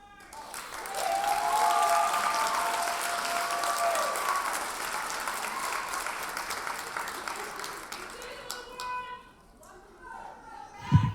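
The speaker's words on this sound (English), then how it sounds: "You can clap." Audience applause at a nursing candle lighting ceremony: a full crowd claps steadily in a large room, with a few cheers over it, then it tapers off as a voice begins speaking.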